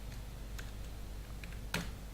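Keys tapped on a computer keyboard, a handful of light scattered clicks ending in one sharper louder keystroke, close and quiet with no talk.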